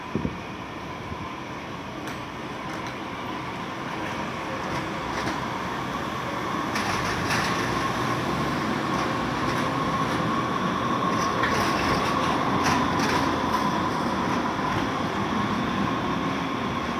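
A two-car San Francisco streetcar rumbles past on its rails, a steady continuous rolling drone with faint metallic clicks and squeals that grows slightly louder over the stretch, with no talking.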